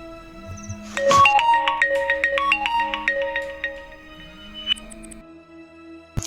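A mobile phone rings with a bright melodic ringtone, a run of quick electronic notes lasting several seconds at moderate loudness over a low background hum before it cuts off.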